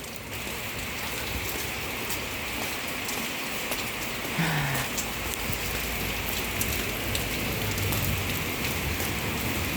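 Steady rain pours down, a dense continuous hiss of drops on surfaces with no voices, holding an even level throughout.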